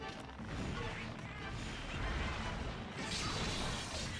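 Bow power shots fire in the video game Monster Hunter Generations, with dense, loud impacts, whooshes and crashes layered into a busy battle soundscape.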